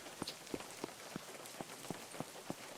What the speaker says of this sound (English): Hopefully the rain will stop soon